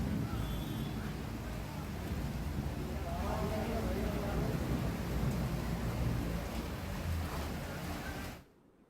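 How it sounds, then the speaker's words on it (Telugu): Heavy rain pours down in a steady, dense roar with deep rumbling thunder beneath, then cuts off abruptly, during a downpour in Hyderabad. "ఒక్కసారిగా వర్షం కురవడంతో అంతా చల్లబడింది"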